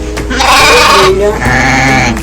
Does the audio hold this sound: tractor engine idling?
no